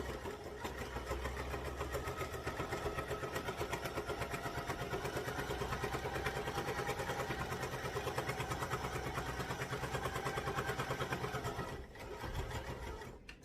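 A sewing machine stitches a long seam down a fabric storage cube bag, with a fast, even mechanical chatter running close and steady. It stops briefly near the end, then gives a short final burst.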